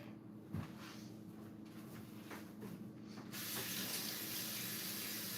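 Water runs from a tap while a syringe is rinsed out, a soft close hiss of flow that thickens into a louder, steady gush partway through.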